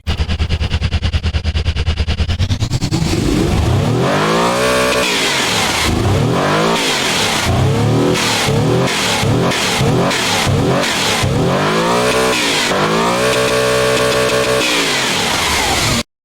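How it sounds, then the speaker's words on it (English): An engine on test in the Automation car game revs hard, rising in repeated surges and dropping between pulls, loud and close with a harsh rasping tone. "Shut this down, test the engine out."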